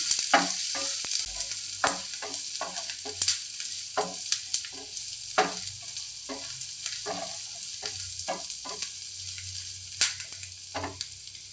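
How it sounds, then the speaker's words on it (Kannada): Sweet potato with onion frying in a pan, a steady sizzle broken by repeated scraping stirs at an irregular rhythm, close and alone with no talk. "ಇದು ಒಂದು ಸ್ವಲ್ಪ ಚೆನ್ನಾಗಿ ಫ್ರೈ ಆಗಲಿ"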